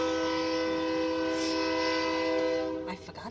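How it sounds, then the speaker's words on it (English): Train passing by with a sustained horn blast held steady over rumbling wheels, moderately distant, fading at the end into scattered noise. "there's a train that goes right by."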